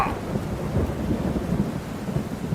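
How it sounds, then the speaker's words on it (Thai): Rain falls steadily for a couple of seconds, a dense continuous wash with low rumbling beneath it, fairly loud and close, with no talking. "อ่าฝนตกซะแล้ว"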